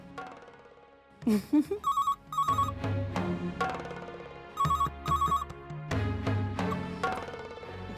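A telephone rings in repeated double bursts, bright and electronic, with music and other sounds playing underneath between the rings.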